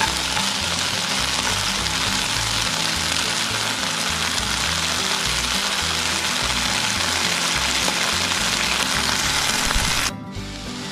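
Broccoli sautéing in a pan on a high flame gives a loud, dense, steady sizzle close up for about ten seconds, then cuts off abruptly just before the end.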